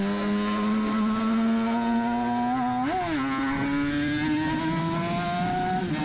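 Onboard a Suzuki RG500 two-stroke racing motorcycle at the Isle of Man TT, the engine drones loud and steady with a brief rise and dip in revs partway through, holding a continuous buzzing pitch throughout.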